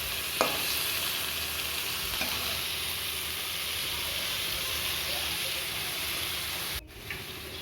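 Potato pieces frying in oil for a chicken curry, a steady close sizzle running throughout with an occasional stir and a short drop in level near the end.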